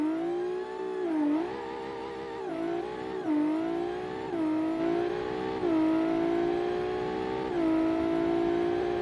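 A supercharged 4-liter V6 car engine with nitrous in a video game revs continuously, its pitch climbing and dropping through repeated gear shifts, loud and steady with no talking.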